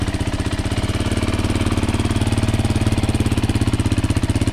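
A 2022 Beta 430 RR-S motorcycle engine runs steadily up close, a loud, even rapid thumping idle with no pauses, heard alone without any talk.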